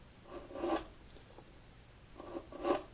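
A mandolin bridge is rubbed back and forth on sandpaper, giving two soft, gritty rasping strokes about two seconds apart in a quiet room.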